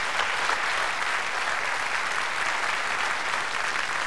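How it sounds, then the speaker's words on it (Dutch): Dutch theatre audience giving applause for composer Joop Stokkermans at a 1991 Karin Bloemen show: a broad, even wash of clapping from a large crowd, sustained and unbroken, with no voices on top. "Maar eerst vraag ik nog eenmaal uw applaus voor Joop Stokkermans."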